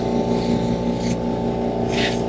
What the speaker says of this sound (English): Mind you, this is my very first time pumping a tire.